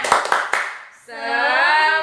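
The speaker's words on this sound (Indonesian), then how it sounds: "Bagus, tepuk semangat." Kindergarten children in class do a quick rhythmic spirit clap, a few sharp claps in a row, followed by a sustained sung or chanted voice.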